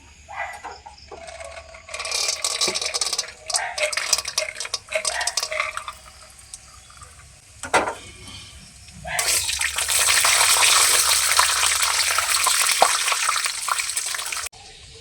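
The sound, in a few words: frying peanuts in oil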